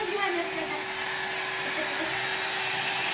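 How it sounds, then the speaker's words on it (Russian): A powerful hair dryer blows steadily with a constant whooshing hiss and a faint motor whine, close and loud, running alone without pause. "Кстати, да, фен мощный."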